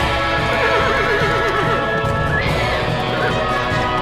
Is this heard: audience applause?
no